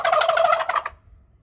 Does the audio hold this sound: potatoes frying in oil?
no